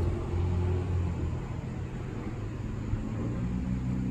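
A 1961 Corvette with an aggressive aftermarket camshaft and new exhaust, heard close up as a steady, deep engine rumble holding at idle throughout, with no voices.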